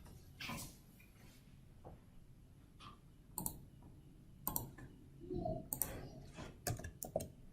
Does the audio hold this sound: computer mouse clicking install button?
yes